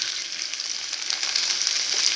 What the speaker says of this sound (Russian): Жарю картошку с колбаской